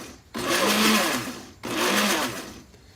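A blender whirs through two bursts, beating eggs and oil for homemade sandwich bread dough; each loud, close pulse lasts over a second with a short pause between, and no talking.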